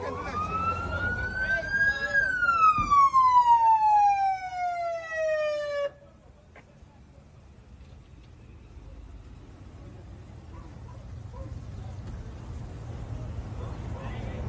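A loud ambulance siren wails upward then sweeps down and cuts off abruptly, leaving low traffic rumble and distant voices in the background, on a Los Angeles street.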